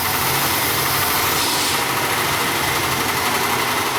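A car engine idles steadily with its brake booster vacuum hose pulled off, a continuous broadband hiss of the open vacuum leak riding over the low engine rumble, loud and close throughout.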